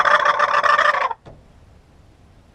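A turkey gobbler call imitates a gobbling wild turkey: one loud, rapid rattling gobble for about a second, then quiet, with no talking.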